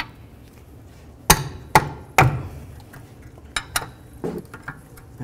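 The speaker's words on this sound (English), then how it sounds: "So for that one, I'm going to use a wrench and my rubber mallet. Get it broken free." Three sharp metallic strikes of a rubber mallet on a wrench, freeing a brake caliper bolt on a 2007–2012 Nissan Altima, followed by several lighter clinks and taps of tools, close and otherwise quiet.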